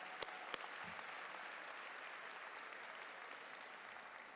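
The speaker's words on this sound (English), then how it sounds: "Let's give another round of applause to all of our service members." Convention audience at an American Legion Auxiliary session applauding service members, a continuous wash of distant, faint clapping with a couple of sharper claps near the start.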